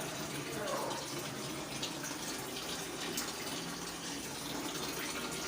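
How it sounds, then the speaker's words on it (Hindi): Water drains out of a Dawlance DW 910 washing machine's drain in a steady, close rushing flow, with faint talk in the background. "ड्रेन का मतलब यहाँ से पानी जाएगा बाहर, निकलेगा यहाँ से।"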